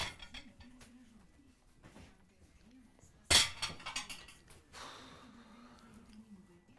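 Dishes and cutlery are cleared into a kitchen sink, giving a sharp clattering clink near the middle and a second, longer rattle of crockery soon after, over a quiet background hum.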